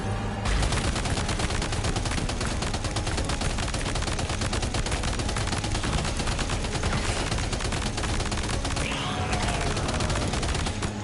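Sustained gunfire from the video game Death Stranding 2: On the Beach, dense rapid shots rattling continuously and loudly for the whole stretch, with no voices over it.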